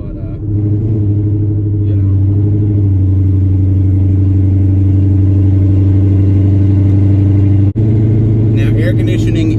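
A VMP supercharged car with Black Mamba styling roars under acceleration from the cabin, a loud, steady engine drone that builds and holds, with brief talk near the start and end.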